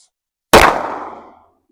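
A single sharp pistol shot from a full-size compensated handgun firing MagTech 115 grain jacketed hollow point ammunition, loud and close, its blast decaying over about a second into quiet.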